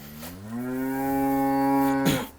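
A dairy cow on a village farm in Rasulpur, Punjab, gives one long, close, loud moo of about two seconds, rising and then holding steady before it breaks off.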